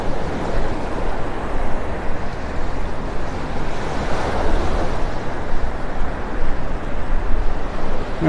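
Broadband ocean surf rolls steadily onto a Florida beach, a loud continuous wash of breaking waves with no talk over it.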